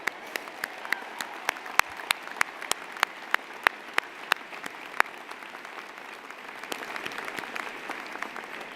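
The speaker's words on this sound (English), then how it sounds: "I think that's a round of applause" Convocation ceremony applause at the University of Calgary for a graduating student: scattered individual claps standing out sharply at first, then thickening into a broader round of clapping from the audience in a large hall.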